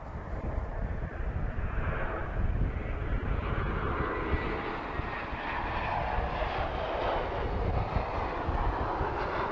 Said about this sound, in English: TP1037 about to arrive from lovely Barcelona. This is an Embraer E195 long range.